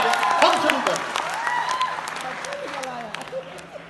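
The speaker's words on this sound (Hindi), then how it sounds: "एक बार सारे लोग मिलकर तालियां बजा दीजिए।" A crowd at a Hindi kavi sammelan poetry gathering during the Banda festival claps, mixed with shouts and voices that stand out above the clapping and then fade.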